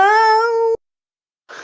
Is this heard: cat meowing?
yes